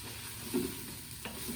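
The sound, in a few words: beef and baby bella mushrooms sautéing, stirred in Instant Pot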